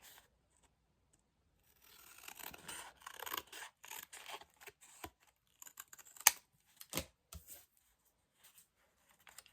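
Scissors cut paper for a junk journal, a quiet series of crisp snips and rustling scrapes close by, broken up by pauses and a few sharper clicks.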